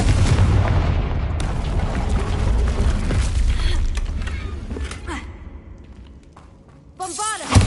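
Confringo fire spell explosion in Hogwarts Legacy, a loud booming burst that rumbles and fades over several seconds, followed by a fresh sharp blast at the end, with game sound and a voice around it.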